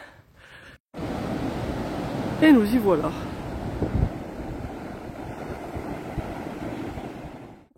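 Ocean surf washes onto the beach at Grand Crohot near Bordeaux on a fine, calm day with smaller waves. A continuous, rushing wash of water and wind is broken briefly by a short spoken phrase.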